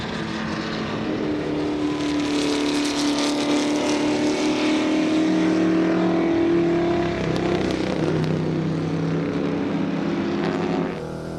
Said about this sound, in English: Coming up on the Abbott Porsche.